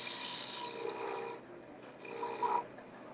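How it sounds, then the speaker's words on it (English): A skew chisel cutting wood on a lathe: soft, close hissing scrapes in two main passes separated by a short pause, fairly quiet overall. "So I've got a skew here. I'm going to clean up that straight edge."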